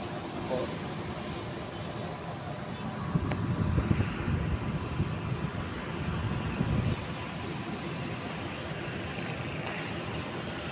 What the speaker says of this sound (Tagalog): Lakas po ng hangin ngayon guys.